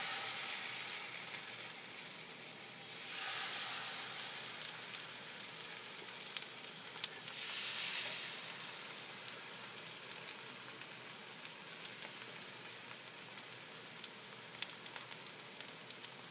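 Beer-battered fish frying in hot oil gives a steady, close, dense sizzle and crackle that carries on without pause, with no talking.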